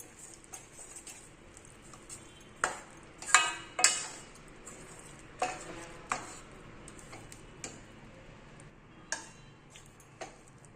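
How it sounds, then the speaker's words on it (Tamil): A spoon stirs thick rice flour dough with grated coconut in a pan off the heat, giving irregular scraping knocks and taps against the metal at an uneven pace, fairly close. "அடுப்பை ஆஃப் பண்ணி வச்சுட்டு இதை நம்ம கலந்து கொடுத்துக்கலாம்."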